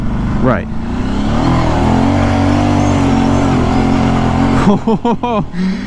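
A Kawasaki Brute Force 750 ATV climbs a hill with its engine revving hard in a loud, sustained drone close by. Near the end the throttle blips in short bursts, and people's voices cut in briefly.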